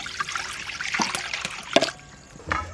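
Water poured into a pot to boil cauliflower, a short trickling, splashing pour close by with a brief gurgle at the end.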